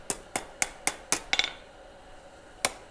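Hammer striking steel on an anvil to straighten it, six bright ringing clangs in a fairly even rhythm, then a pause before a single final strike, close and loud.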